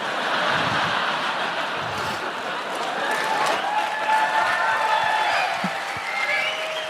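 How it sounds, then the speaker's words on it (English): Applause from a live podcast audience fills the room steadily, a broad wash of clapping mixed with scattered cheers and voices. "What are you applauding?"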